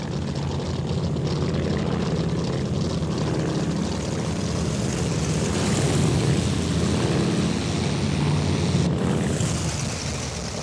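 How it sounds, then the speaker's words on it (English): A Vought F4U Corsair's piston engine and propeller in Flight Simulator X roar steadily and loudly, the drone swelling a little as the engine revs up mid-way, with no talking. "I'm going to turn up the engine. I'm going to rev it up"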